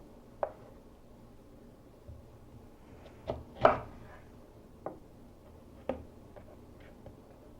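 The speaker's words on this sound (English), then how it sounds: "The tap chop is when you lift your knife up." A knife tap-chopping on a cutting board, lifted between strokes: sparse, sharp wooden taps at irregular intervals, close and fairly quiet against a faint background.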